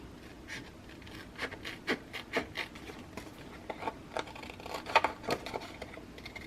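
Scissors snip through a paper pocket page, cutting it in half with a close, quiet series of crisp irregular cuts and rustling paper.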